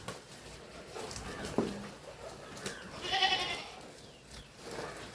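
Dairy goats at a livestock sale give a single nearby bleat midway through, amid quiet shuffling and soft thuds, with no talking.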